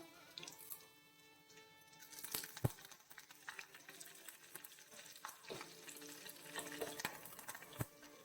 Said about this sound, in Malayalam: നല്ല ചൂടായിട്ടുണ്ട് കുറച്ച് കറിവേപ്പില ഇട്ട് കൊടുക്കാം